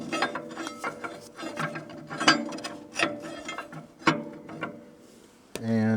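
A seized Detroit 2-71 diesel engine on a Lincoln SAE-400 welder is cranked over by hand, producing uneven bursts of close metallic clicking and grinding, ratchet-like scraping with short pauses between strokes.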